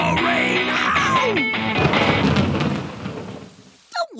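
A loud rumble of thunder rolls over heavy rain, the storm swelling then fading toward the end, followed by a short sharp noise.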